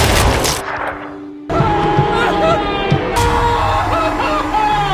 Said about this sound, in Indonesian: dia tidak mengetahui kalau pistol yang dia pegang itu adalah pistol milik May yang telah dimodifikasi.